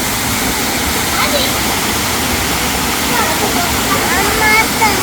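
Rushing waterfall at the Five Falls in Tenkasi, a loud, steady broadband roar that fills the scene from close by, with voices faintly mixed under the constant splash of falling water.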